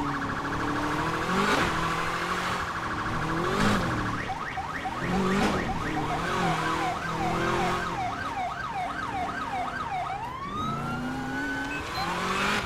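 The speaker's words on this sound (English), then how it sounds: "I don't really need my siren on right now" A police siren in GTA 5 LSPDFR on a 2018 SAHP Charger wails and yelps over a constant engine and road rumble, shifting between steady tones and rapid rising sweeps.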